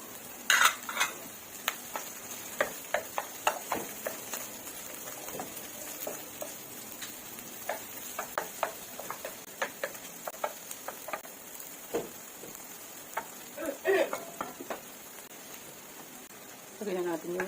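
Ginger and chicken liver being stir-fried in a pan for adobo, with steady sizzling and frequent scraping and clinking of a utensil against the pan throughout.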